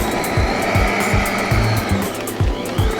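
Electric mixer churning thick St. Patrick's Day cookie dough, a loud steady motor whine broken by rhythmic low thumps as the beaters slap through the dough, with no voices.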